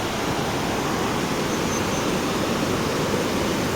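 A waterfall sends water rushing down with great force, filling the air with a dense, continuous roar that stays loud and even throughout, with no voices.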